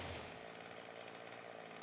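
A chainsaw cutting through wood in the survival video game 7 Days to Die, a steady buzzing motor drone that holds constant throughout.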